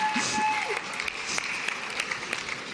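An audience claps after a line in a speech, a moderate spattering of applause that continues throughout, with faint tones at the start.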